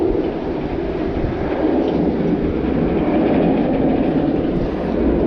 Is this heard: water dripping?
no